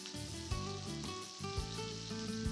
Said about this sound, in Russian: кладем филе и обжариваем около 1-2 минут на сильном огне с одной стороны